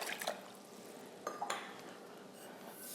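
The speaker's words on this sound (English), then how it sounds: "Now I'm gonna add water" Water is poured into a bowl while a Vietnamese-style sauce is being made, giving short splashy bursts with faint clinks of glass or dishware, close and fairly quiet, with no talking.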